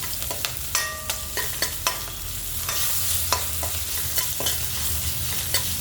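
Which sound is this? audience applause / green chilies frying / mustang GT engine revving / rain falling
green chilies frying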